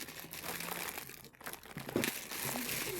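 Crinkly plastic packaging around an ordered bag is handled and opened, giving close, continuous rustling and crackling with a brief pause midway and no talking.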